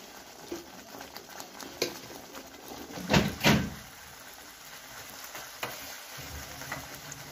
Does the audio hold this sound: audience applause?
no